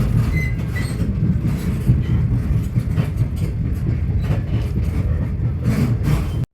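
Passenger train rolling out of Ararat Station in Victoria, with a loud, continuous rumble of wheels on track, rhythmic clicks and a brief squeal near the start.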